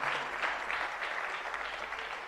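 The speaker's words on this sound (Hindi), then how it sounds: "जरा जोरदार तालियां बजाइएगा।" Steady clapping from an audience at a spiritual question-and-answer gathering, a dense, even wash of handclaps sustained throughout without pause.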